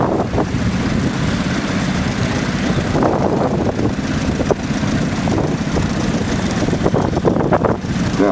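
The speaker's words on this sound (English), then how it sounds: "It's a John Deere one-stand garden tractor." A 1950s John Deere garden tractor drives past in a farm power parade, its small engine a steady low drone under outdoor wind noise and crowd bustle, with brief clanks and knocks along the way.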